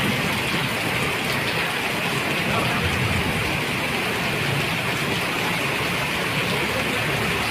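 Heavy rain pours down steadily over a street where a man shelters, a dense, continuous hiss that stays loud and even throughout, with faint traffic rumble underneath.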